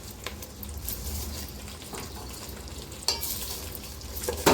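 Aloe vera simmers in coconut oil over a low flame, giving a continuous close frying hiss and bubbling, with a few sharp clicks and taps near the middle and end.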